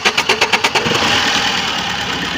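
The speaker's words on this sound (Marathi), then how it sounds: "गाडी चालू केलेली आहे. इंजिनचा आवाज तुम्हाला येतच असेल व्हिडिओमध्ये ऐकून." A Tata Manza car engine, second-hand Indigo Manza, starts with a rapid series of rhythmic pulses that settle into a steady, loud idle running close by.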